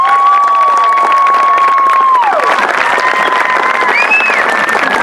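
Steady crowd applause with scattered cheers and whistles for the Pride of Pickens marching band at an exhibition, dense and sustained throughout, with faint tonal whistling rising over the clapping.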